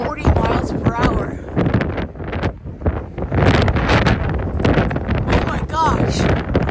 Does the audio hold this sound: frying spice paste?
no